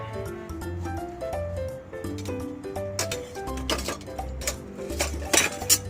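Plates and dishes clink and clatter as they are handled for washing in a home kitchen, with brief clinks growing busier and louder in the second half over a steady tonal melody.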